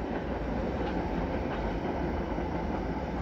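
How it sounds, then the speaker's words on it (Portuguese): A freight train of wagons carrying bulk cement or limestone rolls past with a steady, low rumbling roar, faint and somewhat distant, with no voices. "E esses não, são trens que carregam cimento em a granel, ou calcário, ou alguma coisa assim"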